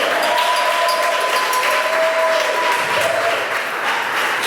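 A church congregation at a Sunday service bursts into steady, full applause, loud and close, sustained without pause for several seconds.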